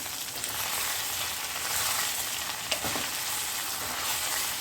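Mini idlis are tossed with spice powder in a hot pan, a soft continuous frying hiss with a single sharp utensil tap partway through; fairly quiet and without speech.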